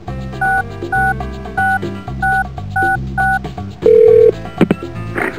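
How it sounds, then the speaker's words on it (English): Telephone keypad tones from the Spy Fox Dry Cereal video game, a steady series of six evenly spaced dialing beeps followed by a longer tone and a few short electronic blips. "I must have dialed the wrong number."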